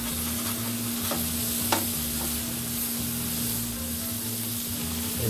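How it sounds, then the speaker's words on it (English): A spatula scrapes and stirs smash burgers on a hot Blackstone griddle, with a steady sizzle of frying meat and occasional sharp metal scrapes running continuously at close range. "You want to scrape it almost like you're scraping paint."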